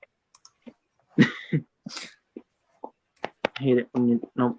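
A person makes a strained attempt to sneeze, with short breathy gasps and catches building up among bits of speech and throat noises, close and fairly quiet.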